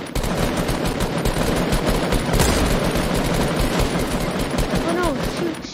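Automatic weapon fire in a Fortnite Season 5 match, dense rapid bursts running steadily throughout at close range, with a player's voice talking over the shooting.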